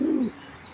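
A grizzle racing pigeon pair gives a single short, low coo up close, fading after a fraction of a second into quiet background hiss.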